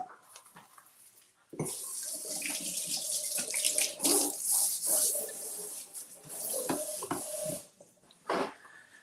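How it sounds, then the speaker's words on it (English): Water runs from a tap as hands are washed, a steady splashing hiss that starts abruptly and flows for several seconds with brief breaks, close and fairly loud. "Wash my hands."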